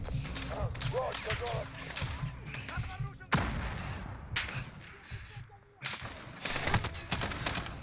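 Rapid bursts of gunfire in a Modern Warfare realism campaign mission crack in dense volleys with brief pauses, loud and close, mixed with chaotic game effects and occasional voices.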